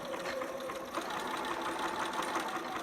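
Sewing machine back stitching fabric for a child's two-piece sitter outfit, a close, continuous mechanical whirr with a rapid rhythmic knock throughout.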